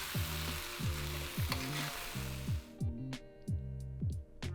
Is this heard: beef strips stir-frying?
yes